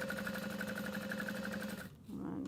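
Sewing machine top stitching a small tote bag, a steady fast mechanical whir with rapid needle clatter running continuously, briefly dipping before resuming, close and fairly quiet.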